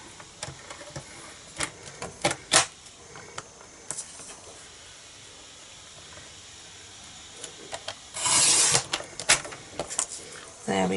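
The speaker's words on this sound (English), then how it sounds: "we're just going to cut that out so we have a little strip top and bottom" Scissors snipping through a strip of gold foil sheet for a floral card, brief sharp cuts scattered across the stretch with a denser crinkly rustle of foil near the end, close and fairly quiet.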